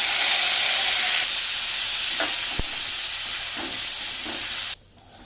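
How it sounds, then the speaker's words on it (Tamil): Rice lightly fried in a pan with whole spices such as cinnamon, black cardamom and green cardamom for veg pulao, a loud continuous close sizzle with a few stirring clicks, cutting off abruptly near the end. "இப்போ இந்த ரைஸை போட்டு லேசாக வறுத்துடணும்"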